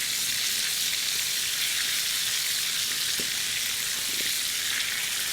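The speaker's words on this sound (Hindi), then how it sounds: "फिर हम करेंगे इसको फ्राई।" Green chillies coated in gram flour batter deep frying in hot oil, giving a steady, loud broadband sizzle with faint bubbling pops throughout, no voices.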